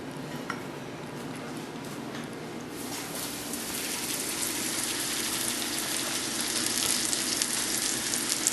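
Lightly flour-coated crappie fillets frying slowly in a pan, a broad sizzle that swells from quiet to a steady, louder hiss over several seconds, close, with no talking.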